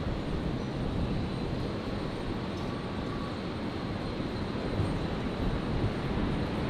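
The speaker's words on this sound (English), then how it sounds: "Qantas 134. Touching down there. The 73 in from Christchurch." A Qantas Boeing 737 arriving from Christchurch touches down at Brisbane Airport, giving a steady low roar of engines and rolling rumble with a faint high whine, distant and unbroken, with no voices.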